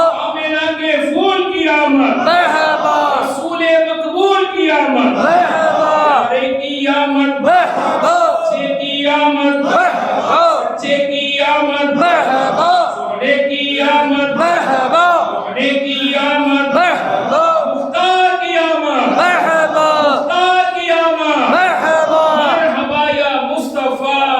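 A crowd at a religious Milad gathering chants slogans of welcome, with loud, rhythmic, repeated calls that rise and fall steadily throughout, with no pause.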